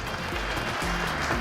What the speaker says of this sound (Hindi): कृपया तालियां हो जाएं।